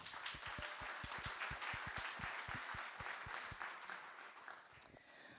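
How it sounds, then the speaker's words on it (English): Conference audience clapping in rhythm, sharp distinct claps at a steady beat that thin out and fade toward the end, fairly quiet and distant. "thank you all for clapping along with me"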